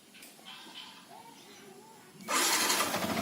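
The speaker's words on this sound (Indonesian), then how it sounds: "mari kita nyalakan mesinnya" A 2013 Yamaha New Vixion Lightning motorcycle engine is started after some quiet handling noises, catching abruptly into a loud, steady idle close by.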